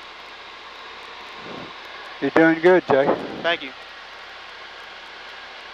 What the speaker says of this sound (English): This is a soft little airplane.